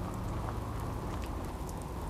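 Steady rain in the Fallout 4 game world, a constant dense hiss filling the whole moment with no voices.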